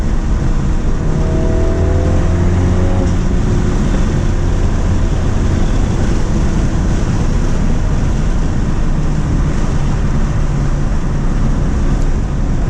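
A Dinan Elite Stage 1 tuned F56 Mini Cooper JCW pulling hard through third gear, a loud, continuous engine roar with rushing wind and road noise heard from inside the cabin.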